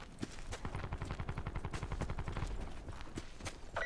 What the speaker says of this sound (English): they're shooting up in front of us